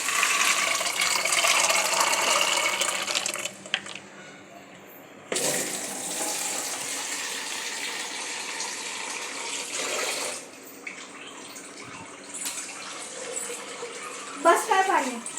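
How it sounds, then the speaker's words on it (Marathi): Water runs from a tap in sustained gushing bursts, pausing and resuming, as it is added to rice during cooking in a home kitchen, with people talking at times. "पाणी टाक भातात थोडंसं"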